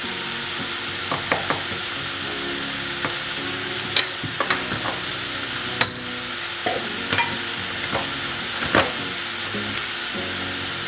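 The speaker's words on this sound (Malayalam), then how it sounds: "കറിവേപ്പില കൂടുതൽ ഉപയോഗിക്കുന്നുണ്ട് ഈ ഒരു സ്പൈസി ചിക്കൻ ഫ്രൈയിൽ" Spicy chicken roast frying with curry leaves in a pan, steady sizzling with repeated sharp scrapes and clinks of a spoon stirring, close and alone without speech.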